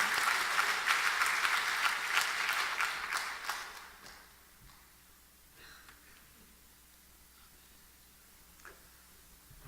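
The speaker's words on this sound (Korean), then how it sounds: "우리 하나님께 영광의 박수 다시 한번 돌려드리고" A church congregation applauds during a Sunday evening worship service, a loud burst of clapping for about four seconds that quickly dies away into quiet room tone.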